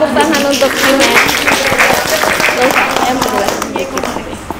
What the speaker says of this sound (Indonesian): Tepuk tangan untuk Imet.